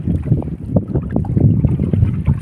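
Strong wind buffeting an outdoor microphone near water or hills, low rumbling gusts that surge and fade in uneven pulses, fairly loud and close with no voices.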